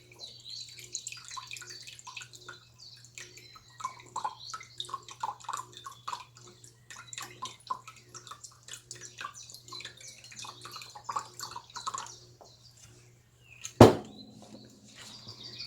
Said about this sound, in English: To this, I need to add 3/4 cup of red wine vinegar.